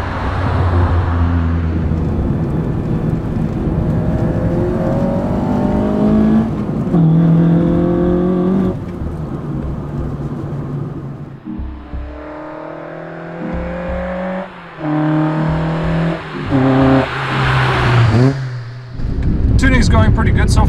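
Front-wheel-drive car with a Toyota 4A-GE engine running on a Link ECU, driven on the road, its engine note steady and rising under continuous conversation from people inside the car.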